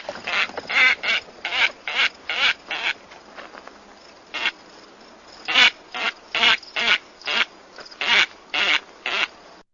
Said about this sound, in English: So that's the white-faced ibis call there.